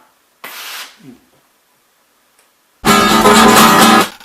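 Two bursts of hissing steam, a brief breathy puff first and then after a pause a loud, sustained broadband hiss lasting over a second before cutting off.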